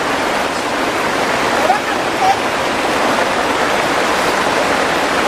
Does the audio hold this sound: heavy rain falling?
yes